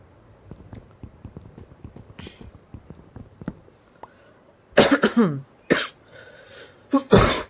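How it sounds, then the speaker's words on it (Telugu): Several harsh coughing bursts from a Telugu Minecraft survival gamer, loud and close, following a stretch of quieter, soft clicks and tapping from gameplay. "ఎక్కువ దగ్గుగా ఉంది గైస్"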